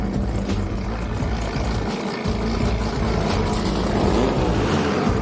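Drag racing cars doing a burnout at ATCO night races make a loud, continuous roaring engine drone that stays strong and steady throughout, with no talk over it.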